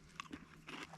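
Crunchy food with raw sliced white onion being bitten and chewed at a campfire barbecue, a few quick close crunches over faint background hiss.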